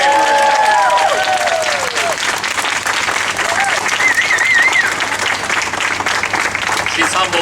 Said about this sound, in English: Please, big round of applause for Marissa O'Gara right here.